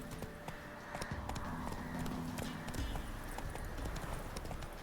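Roach, the horse in The Witcher 3, clops along with rhythmic in-game hoofbeats over faint background noise.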